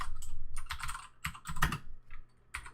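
Quick, close keystrokes on a computer keyboard come in uneven bursts with brief pauses, the clatter loud and dry throughout.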